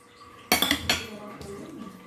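Kinilaw ingredients for bangus are mixed in a bowl, with a sudden burst of metal utensil clinking and scraping against the dish, a second softer clatter, then quieter rubbing.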